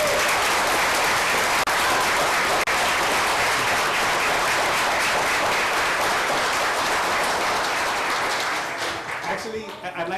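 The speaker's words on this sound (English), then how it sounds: "Let's give them a big hand" An audience at a city council meeting gives a big hand to the Liberty Eagles, the 2023 City Cheer Champions: sustained, loud crowd applause, fading and thinning out near the end.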